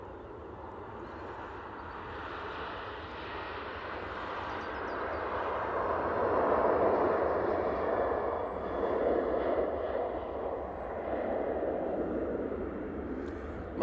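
TUI Boeing 737-800 rolling for takeoff on runway 05 left at Manchester, its engine roar rising gently to a moderate, distant swell midway, then easing slightly, with no talk.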